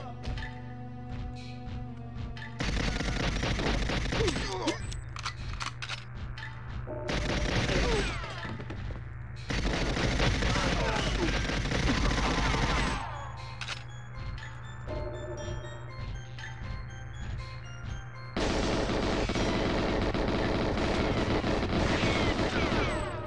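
Gunfire from the GoldenEye video game comes in several loud, sustained bursts of rapid shots as bullets strike an enemy soldier. The bursts are separated by quieter stretches over steady background music.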